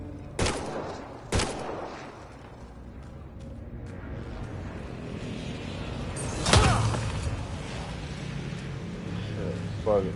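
Gunfire in Mass Effect Andromeda: three sharp, isolated shots ring out at irregular moments over a low, rumbling game ambience, with a player talking in between.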